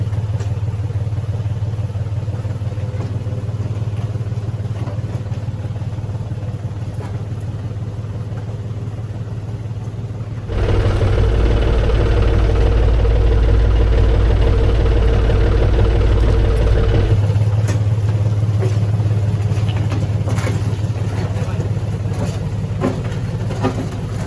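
A tractor engine runs at a steady idle-like drone while grading with a blade, its pitch and loudness rising to a heavier laboring roar midway before settling back to the earlier level.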